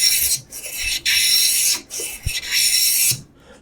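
A hand plane takes thin, wispy wood shavings in repeated strokes, each a rasping pass of about half a second to a second, with brief gaps between them. The strokes are close and fairly loud.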